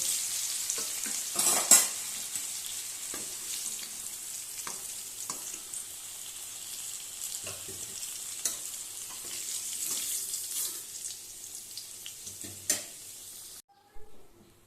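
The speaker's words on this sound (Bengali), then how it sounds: "এবার দিয়ে দিচ্ছি 2টো শুকনো লঙ্কা ফোড়ন, একটু জিরে, আর 2টো তেজপাতা।" Dry red chillies, cumin seeds and bay leaves spluttering and sizzling in hot oil for biryani, a steady close crackle with occasional stirring clinks, stopping abruptly near the end.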